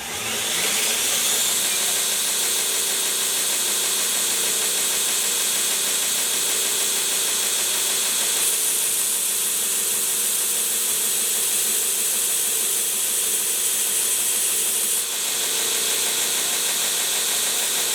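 A Greenlee 3-inch slick chisel has its bevel ground on a grinder, giving a steady, continuous abrasive whir and hiss that holds at an even level throughout, close and fairly loud with no talking.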